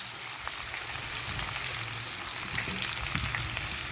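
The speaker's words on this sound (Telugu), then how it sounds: "ఇలా వేసేసి మనం వేయించేసుకోవాలి" Raw banana slices with chili powder, salt, cumin and coriander powder fry in a pan, giving a steady, moderate sizzle with light stirring clicks throughout.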